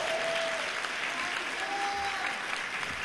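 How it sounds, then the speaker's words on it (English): Audience applause at a Comic-Con 2012 panel for The Last of Us by Naughty Dog, a dense, even wash of many hands clapping, loud and sustained across the whole stretch. "round of applause."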